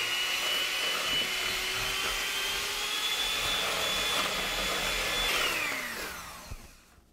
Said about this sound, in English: we're just going to take a hand mixer, put it on high, and let it go